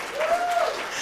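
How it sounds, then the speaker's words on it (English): Brief applause from a church congregation at a Sunday service, steady and fairly close for about a second, with a sustained tone running through it. "Can I get a round of applause on that?"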